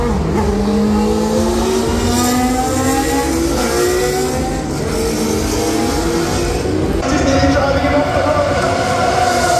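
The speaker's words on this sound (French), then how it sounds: "les F1 historiques prenaient le circuit pour faire quelques tours" Historic Formula 1 cars lapping the Monza circuit during a Grand Prix weekend, a loud continuous engine roar with rising and falling pitch as cars pass and shift, close by and steady throughout.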